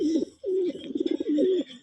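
Pigeons cooing at dawn: three close, throaty coos in a steady rhythm, the middle one breaking into a quick fluttering burst, clear and alone with no talk.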